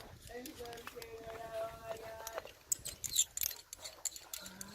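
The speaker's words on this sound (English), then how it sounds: "locking carabiners like that. And we can go ahead and lock those up." Metal locking carabiners are being locked while a top rope climbing anchor is set up. Small clicks and clinks cluster near the end, with a person talking close by just before them.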